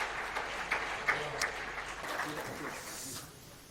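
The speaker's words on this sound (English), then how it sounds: "we want you to let us show our trust to the speaker and give him a round of applause" A seminar audience in Golitsyno gives a speaker a round of applause, with scattered, fairly soft clapping in a room that fades toward the end.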